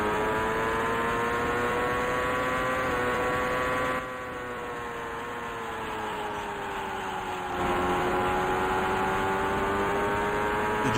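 Indycar engine in Indycar Racing II, a steady buzzing drone whose pitch sags and dips as it bogs down through a corner, then picks back up, constant and close with no talk.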